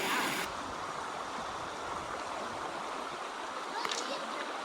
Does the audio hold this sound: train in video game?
no